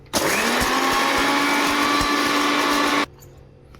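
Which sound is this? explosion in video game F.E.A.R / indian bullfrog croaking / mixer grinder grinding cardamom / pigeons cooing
mixer grinder grinding cardamom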